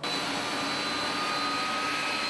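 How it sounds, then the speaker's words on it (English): Jet engines of a large cargo plane carrying horses run steadily before pushback, a loud unbroken roar with a high whine and a few steady tones on top, close and without talk. "With the engines firing and the big plane about to push back"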